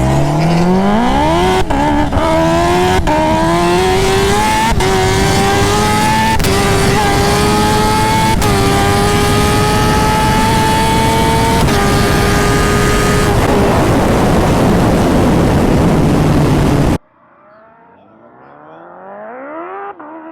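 A turbocharged Kawasaki ZX14R motorcycle makes a half-mile run against a Corvette: a loud, close, sustained engine scream rising in pitch through several gear shifts, then cutting off abruptly, followed by fainter wind and engine noise.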